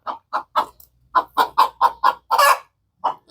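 Chickens cluck in a quick series of short, clipped notes, close and loud, with a brief pause partway through.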